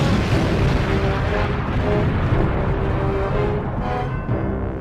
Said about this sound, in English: a modified B-29 takes off from Norway and drops the Little Boy on Leningrad.